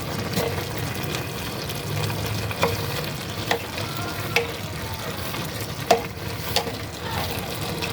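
Shrimp frying in a pan, sizzling steadily up close while a utensil stirs them, with several sharp scraping clicks spaced through the run and no talking.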